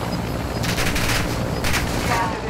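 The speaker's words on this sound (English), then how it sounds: "Oh, they're shooting." Rapid gunfire in Call of Duty: Modern Warfare II during a helicopter fight, with sustained automatic bursts and several sharper volleys over a constant loud background rumble.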